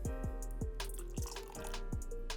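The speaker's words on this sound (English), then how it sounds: "So I like to come in, little warm water" Warm water splashed into a thick Asian chicken salad dressing, a soft trickling pour with drippy splashes over a steady low hum, close and fairly quiet, with no speech.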